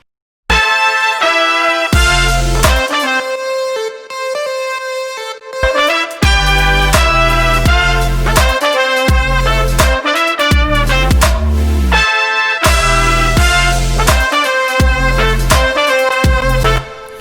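A bright synth lead melody plays over a dense arrangement with punchy bass and brassy horn stabs, loud and continuous, no voices.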